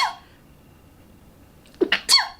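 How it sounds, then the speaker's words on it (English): One close, abrupt sneeze with a quick sharp intake just before it breaks through a quiet room, loud and explosive for a moment against near silence. "I need to sneeze."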